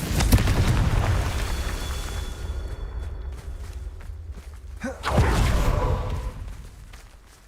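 Fiery Confringo curse blasts in Hogwarts Legacy, a sustained roaring rumble that fades, then a sharp burst near the five-second mark, with a loud crackling boom that dies away.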